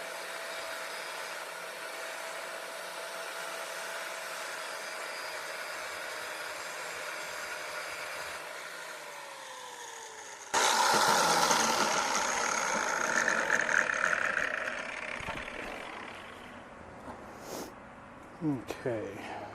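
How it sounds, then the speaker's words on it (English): An angle grinder hums steadily at close range, then bites into a metal rack with a louder, harsh grinding rasp that trails off into scattered clatter, with a person speaking. "Looks like it's going to take a little more grinding"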